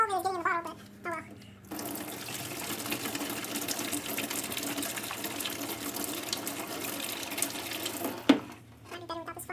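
Liquid drained from a rusty gas tank on a 1978 Yamaha DT400 runs in a steady, close splashing stream into a bottle for several seconds, with brief talk before it and a clunk near the end.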